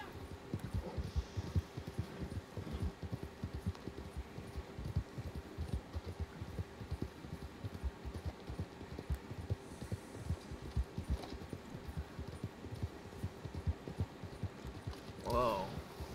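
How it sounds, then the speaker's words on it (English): Horse hooves clip-clopping in an online video game, a steady, fast rhythmic trot of soft thuds running throughout, with a brief brighter sound near the end. "Why does it keep giving me this fucking horse?"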